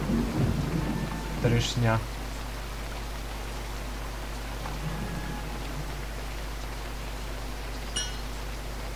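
Thunder and rain from the video game Fran Bow: a low steady rumble and constant rain hiss fill the scene, with a brief louder burst early on and a short voice heard over it.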